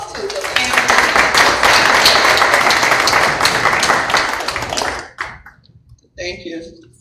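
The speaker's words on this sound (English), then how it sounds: "So let's just give a round of applause to the family." Audience applause at a county school board meeting honoring a family for an award, dense steady clapping for about five seconds that tapers off, followed by a brief voice.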